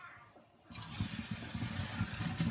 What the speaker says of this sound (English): You're going to drain the potatoes in the sink.